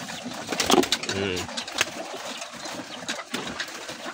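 Pigeons coo close by at a loft during feeding, a few throaty rolling calls over soft background rustle and a faint engine hum.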